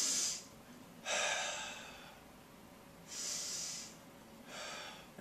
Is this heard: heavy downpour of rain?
no